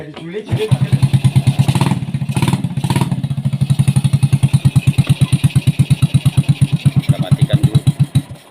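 A Yamaha Jupiter Z motorcycle engine, after clutch repair, cranks and catches, revs briefly, then settles into a steady, loud, rhythmic putter of idling close by.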